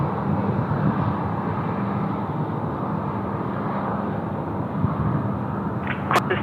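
Aircraft taking off on runway 16 right at Sydney Airport, a steady loud broadband engine roar rising and holding throughout, heard from a distance, ending with a brief higher-pitched tonal sound.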